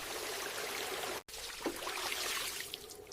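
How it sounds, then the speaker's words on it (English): Tap water pours steadily into a sink while tomatoes are washed, a continuous broadband rush that cuts out for an instant and resumes, with light splashes near the end. "Oops! Water everywhere!"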